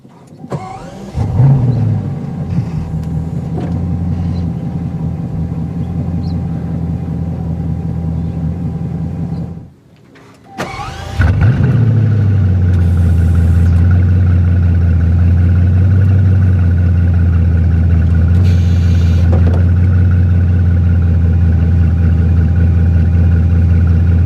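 A 2017 Bugatti Chiron engine cranks and fires up, drops out briefly, then restarts with a roar and settles into a deep, loud, steady idle rumble.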